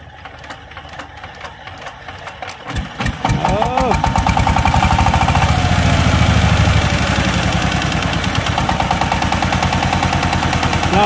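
A diesel engine cranks briefly, then fires up and settles into a loud, steady rhythmic clatter that continues to the end, with voices talking over it.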